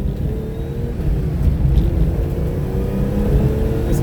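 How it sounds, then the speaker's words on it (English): A 1982 Ferrari 400i V12 with a five-speed manual gearbox is being driven, its engine giving a steady, loud, smooth low drone from inside the car with no speech. "but it still has that Ferrari pitch, that sound."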